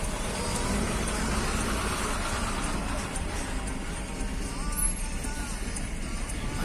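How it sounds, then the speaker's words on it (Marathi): Shivapur–Sawantwadi bus passing on a village road, a moderate engine rumble rising and fading with road noise, heard at a distance while people talk nearby. "ही गाडी दिस आता आली आहे ती मला वाटतं शिवापूर सावंतवाडी गाडी आहे"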